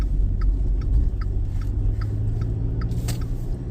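A car cruises along a foggy highway at dawn, its steady road rumble and engine drone filling the cabin with faint, regular ticking on top.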